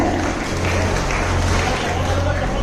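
Applause for a child performer on stage at a community festival: dense, steady crowd clapping that fills the whole stretch, loud and continuous with a crowd murmur underneath.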